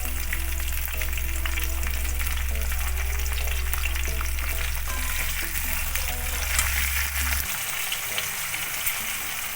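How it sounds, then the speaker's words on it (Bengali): Potato chunks and red radish fry in a pan with a constant close sizzle and occasional stirring scrapes, steady and loud over a low background hum that drops out near the end. "আলু আর মূলোটা ভালো ভাজা হয়ে গেছে।"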